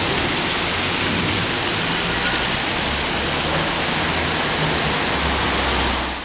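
Floodwater pours through the central streets of Patras after heavy rain, a loud, continuous broadband rush of water filling the scene without any voices.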